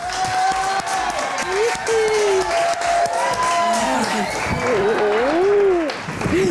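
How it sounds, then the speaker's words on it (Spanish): A studio audience on the Mexican TV show Estilo DF applauds and cheers to welcome actress Araceli Arámbula, clapping under music and voices throughout. "Recibamos con un fuerte aplauso a la talentosa y guapísima Araceli Arámbula"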